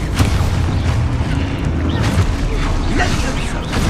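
Expulso explosion spell cast in the wizarding game Hogwarts Legacy, a dense booming blast over rumbling combat noise, loud and steady for a few seconds with a voice faintly present underneath.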